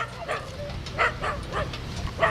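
A dog barks and yips in a short series of sharp calls at close range, with a low steady hum beneath.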